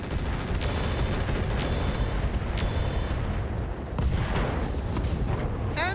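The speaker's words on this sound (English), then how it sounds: "And we get a nice ammo explosion there." An ammo explosion in the mech combat game RogueTech, a loud, sustained roar of blasts and rumbling with sharp cracks layered over dense noise.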